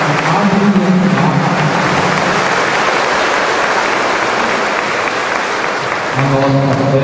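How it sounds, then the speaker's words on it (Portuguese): Congregation applauding the band from Tremembé during a mass honouring São Benedito in Taubaté, loud sustained clapping filling the church, with music or voices faintly underneath at the start and end. "Uma grande salva de palmas à banda do Tremembé"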